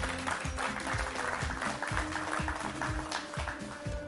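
Studio audience clapping on a televised singing contest, a sustained wash of applause over a rhythmic musical backing beat, steady and fairly loud throughout.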